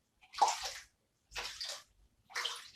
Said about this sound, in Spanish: viene la corriente de agua y se va llevando las partículas menos densas